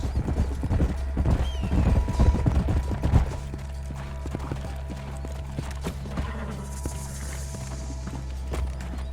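Horse hooves clip-clop in a rapid trotting rhythm for a few seconds in the video game Red Dead Redemption, then fade into a steady low hum with faint ambient noise.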